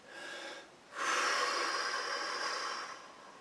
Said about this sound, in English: Now try it with the breathing.